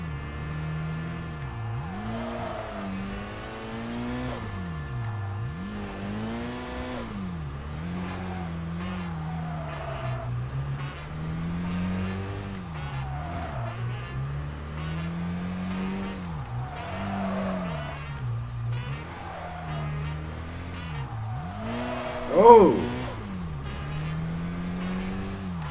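A race car's engine revs up and down in repeated swoops through a drifting run in the video game Kaido Racer 2, with gear changes and a sharp tire squeal near the end, close and steady.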